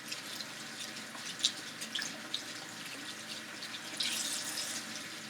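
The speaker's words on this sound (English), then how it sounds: "we're going to wash our hands" A tap runs steadily while hands are washed, a faint even hiss of water with a few small splashes and drips and no voices.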